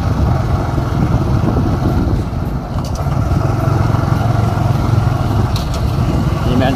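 A river ferry in southern Laos carries a motorbike across, its steady engine drone and water noise constant and close, with wind buffeting the microphone throughout.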